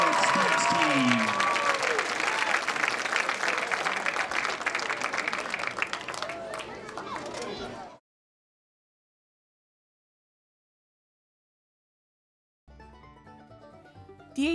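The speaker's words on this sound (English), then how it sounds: "Let's hear it for the Bravettes Dance Team." Loud crowd applause and cheering for a dance team at a high school basketball game fills the gym for about eight seconds, with voices shouting over it, before cutting to silence and then a brief spoken voice.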